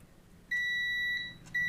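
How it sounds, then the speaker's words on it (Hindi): A multimeter in continuity mode beeps during a circuit test on an e-bike charger: a steady electronic tone holds for about two thirds of a second, then a second beep starts just after, both clear and close. "मैं आपको मल्टीमीटर के थ्रू दिखाता हूँ, सबसे बेटर रहेगा। इसमें आवाज़ देगा, बीप देगा"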